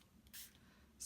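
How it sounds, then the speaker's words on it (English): Two short, quiet hissing bursts from a Stampin' Spritzer spray bottle misting Brusho colour, one near the middle and another at the very end, with near silence between. "spray this a little bit more."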